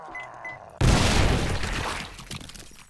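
A sudden loud burst of gunfire aimed at a demolition zombie in the survival game 7 Days To Die, breaking in after a quiet stretch and then trailing into a long, noisy rumble.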